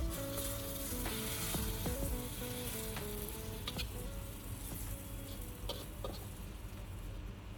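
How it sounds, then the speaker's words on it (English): Tamarind juice is stirred into sizzling sambal sauce in a pan. A continuous close sizzle plays under light spoon scrapes and taps, with a faint tonal hum in the background. "And now add your tamarind juice, like so, and give it another stir."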